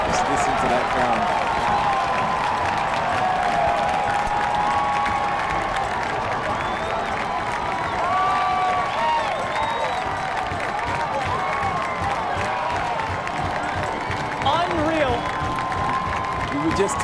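Sustained cheering and clapping fill the stands after Hartford Athletic's stoppage-time equalizer against New York Red Bulls II, a broad, steady crowd roar with scattered shouts and whistles that never lets up.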